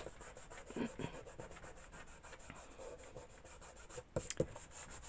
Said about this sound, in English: just rub it really, really good